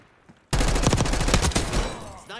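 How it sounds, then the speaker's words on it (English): A loud, close burst of rapid gunfire in the video game Black Ops 6, erupting after a quiet moment and rattling for nearly two seconds before trailing off. "Oh, who is he shooting at?"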